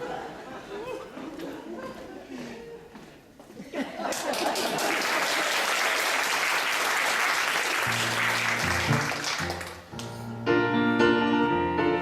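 A live audience at a concert breaks into sustained, loud applause with cheering and crowd chatter, preceded by murmuring voices and followed by piano and strings starting up.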